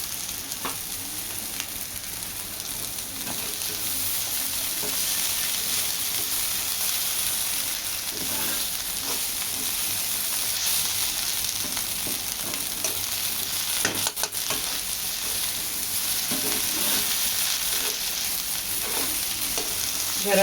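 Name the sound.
stirring okra bhaji frying in a pan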